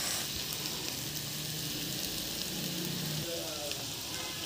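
Two tomatoes sizzle steadily after going into the middle of a hot pan, a soft continuous frying hiss with faint stirring.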